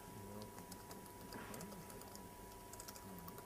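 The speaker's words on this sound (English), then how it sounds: "I warned you about my typing." Fast typing on a computer keyboard during a live coding demo at a tech keynote, soft irregular key clicks running steadily under a hum of room noise, with a brief voice partway through.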